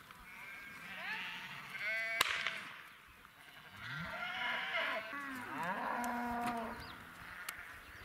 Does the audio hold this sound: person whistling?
no